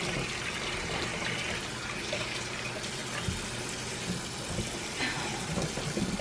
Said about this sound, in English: Wash it like a baby in the sink.